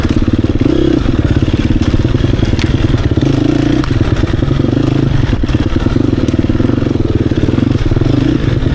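A 2024 Beta 300 RR Race Edition motorcycle engine pulses steadily and loudly under engine braking, a close, continuous throbbing rumble with a faint clatter over it.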